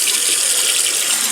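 Tap water runs steadily into a sink during rinsing of a razor blade, a close, loud, continuous hiss and splash with no voices.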